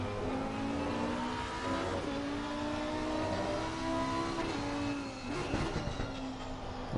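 Lamborghini GT race car engine heard onboard in Assetto Corsa Competizione at Valencia, a steady high-revving drone with gear changes and rising pitch through corners, loud and continuous.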